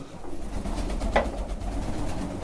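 Pigeons coo softly at a feeder, with a low, murmuring call and one brief, clearer note in the middle, over a steady, rumbling background.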